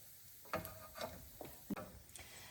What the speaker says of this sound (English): wait for the lentils to become little brown and the mustard seeds to start popping